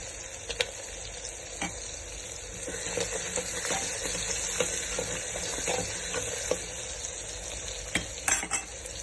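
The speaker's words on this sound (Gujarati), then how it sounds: "હવે આપણે તેમાં આદુ મરચાં અને લસણની પેસ્ટ ઉમેરીશું." Ginger, chili and garlic paste fries in a pan for a Gujarati meal, a soft steady sizzle broken by scattered light scrapes and clinks of stirring, fairly quiet with no talk.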